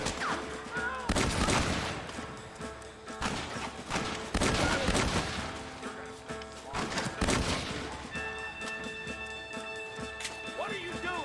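Heavy gunfight in Red Dead Redemption, with loud repeated volleys of rifle and pistol fire in bursts, shouting voices and battle noise over music, and a calmer stretch near the end.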